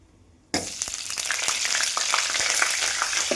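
Ginger garlic paste hitting hot oil with cinnamon and bay leaf in the pan, a sudden loud sizzle that bursts in and keeps crackling steadily.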